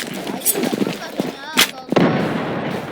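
A grenade goes off in the online shooter Zula: a few sharp, heavy blasts land close together near the end, with game chatter and other noise around them.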